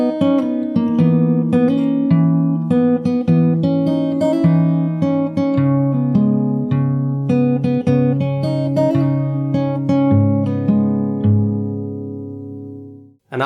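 Fingerstyle acoustic guitar plays the opening of a song, a steady picked pattern of bass notes under ringing melody notes, close and continuous before the last chord fades out.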